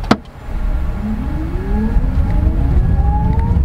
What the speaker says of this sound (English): I love that electric motor sound.